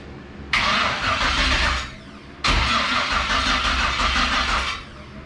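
A Fox-body Mustang with an LS engine swap is cranked twice by the starter, each long grinding attempt loud and close, with the engine not catching.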